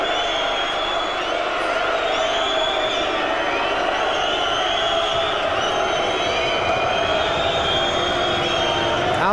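Boxing arena crowd at a heavyweight bout roaring angrily after a second-round disqualification, a dense, continuous wall of shouting, booing and whistles at steady high volume with no individual words standing out.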